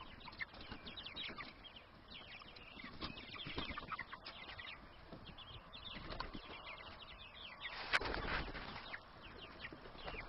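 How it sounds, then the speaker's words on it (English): A flock of backyard chickens in a garden setting clucks and chatters continuously at moderate level, with scattered wing flaps and a brief louder flutter near the end. "They seem to be a pretty happy bunch of birds."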